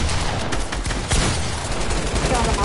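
Submachine guns in a video game fire in dense, overlapping bursts, loud and close, forming a continuous chaotic rattle with a voice faintly mixed in.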